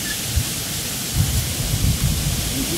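Low rumbling thunder rolls in bursts over a steady hiss of rain, loudest in the second half, with no voices.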